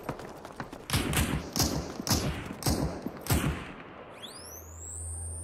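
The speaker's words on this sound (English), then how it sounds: "he's shooting at somebody else" In-game gunfire sounds as five or six evenly spaced, fairly loud shots, then it stops and a rising whine takes over.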